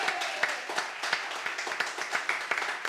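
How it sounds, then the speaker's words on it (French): A studio audience at a French television show claps for a singer just after a held note, with a brisk, fairly dense run of hand claps, moderately loud, that keeps going for a few seconds. "On peut l'applaudir."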